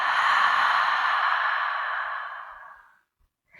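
A single long, deep exhale through the mouth during pranayama breathing, close and breathy, steady at first, then fading away over about three seconds into silence.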